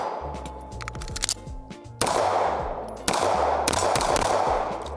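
A CZ Shadow 2 Compact OR pistol fires two loud, close shots about a second apart, each ringing out and decaying, after a stretch of quieter distant gunfire on the range.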